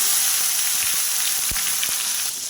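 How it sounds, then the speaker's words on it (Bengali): Whole spices—cloves, cardamom, cinnamon, dried red chilli and bay leaf—fry in hot oil for a vegetarian paneer kalia tempering, a steady close sizzle with a few sharp pops and crackles, no talking. "এখানে ফোড়ন হিসেবে লবঙ্গ এলাচ দারচিনি শুকনো লঙ্কাও তেজপাতা দিয়ে দেব"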